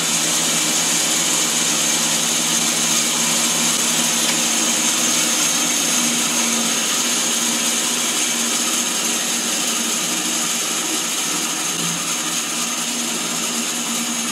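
A restored bandsaw with a fresh blade runs steadily, a loud, constant whirring hum with a faint high whine, close by with no breaks and no speech.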